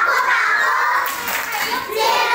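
Children in a first-grade class chant together with rhythmic clapping, their voices loud and bright with claps mixed under the group shouting.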